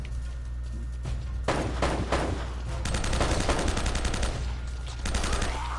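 Gunfire from the action video game Uncharted: dense bursts of rapid automatic shots and single cracks repeat over a low, rumbling game backdrop, loud and sustained throughout.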